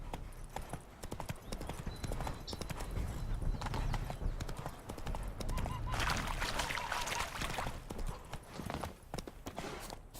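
Hooves of Geralt's horse Roach in The Witcher 3 game clip-clop in a steady, brisk rhythm, close and clear, with a faint snort at one point and brief talking over it.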